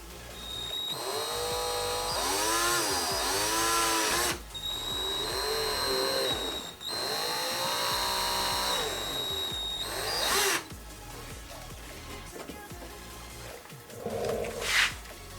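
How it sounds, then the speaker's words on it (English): A power drill bores a 1/8 inch hole into the center of a marked point while installing a Perrin Performance gurney flap: two loud whining bursts of several seconds each with rising and falling motor pitch, then quieter handling noises. "So I just drilled the 1/8 hole into the center."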